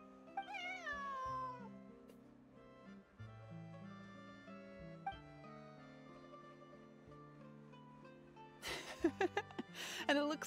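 A cat meows in a detective video game, a few rising and falling cries layered over soft game music, with a quick burst of higher cat cries near the end.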